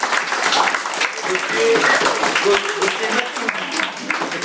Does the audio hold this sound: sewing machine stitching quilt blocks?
no